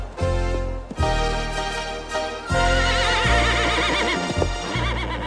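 A horse neighs loudly and repeatedly at close range, several long whinnies in succession with brief breaks between them and faint hoof clip-clop underneath.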